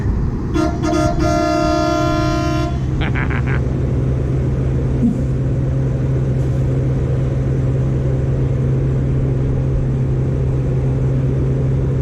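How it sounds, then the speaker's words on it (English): A vehicle horn gives a couple of clear toots near the start at a first-cut silage harvest, over the steady drone of tractor and trailer engines that keeps running alone afterward. "Give us a honk."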